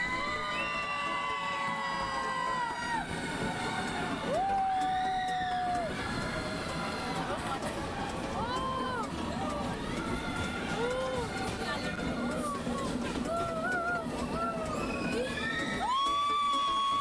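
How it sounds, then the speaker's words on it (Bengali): Passengers on a tourist train near Vizag scream and whoop loudly together as it enters a tunnel, a dense continuous crowd roar with rising and falling shouts throughout. "ট্রেনটা যখনই টানেলের ভেতর ঢুকছে, ট্রেনে উপস্থিত সবাই এত জোরে চিৎকার করছে"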